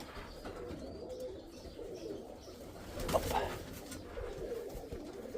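A young grey-ginger pigeon coos quietly near a garden, giving soft repeated low calls with a brief rustle or flutter partway through, over steady outdoor background noise.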